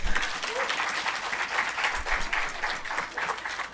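An audience at a women in agriculture event claps steadily, a dense, sustained wash of applause from a crowd indoors.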